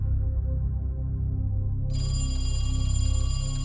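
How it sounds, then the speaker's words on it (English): A telephone rings steadily and loudly with a bright electronic tone in a suburban Connecticut home's kitchen; no one speaks. "The phone rings in the kitchen, and his mom answers."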